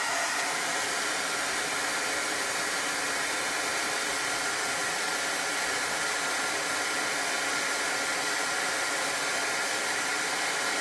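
A hair dryer blows continuously and loudly at close range, drying chalk paste on a shirt for a Chalk Couture transfer, a steady even rush of air with no talking.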